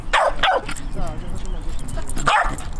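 Several sharp, close yips and barks from an excited corgi come in short bursts at a birthday playtime with other dogs, mixed with steady background noise and voices nearby.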